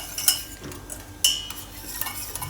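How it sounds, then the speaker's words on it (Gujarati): A spoon stirs white kadhi batter of buttermilk inside a cooking pot, giving a few clinking strikes against the metal and soft scraping, close and fairly quiet, with no talking. "તો આ રીતે કરીએ ને એટલે એકદમ સરસ મિક્સ થઈ જાય."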